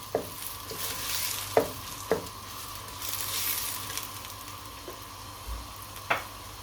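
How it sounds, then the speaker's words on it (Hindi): Chicken being fried in masala for biryani, a steady close sizzle under repeated knocks of a spoon stirring against the pan at irregular intervals, with no talking. "चिकन को भूनेंगे।"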